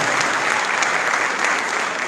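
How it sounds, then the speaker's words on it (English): Loud, dense applause fills a high school gym at a national letter of intent signing day, a crowd clapping in an even, continuous wash for a couple of seconds. "So just give her a round of applause for Miss E."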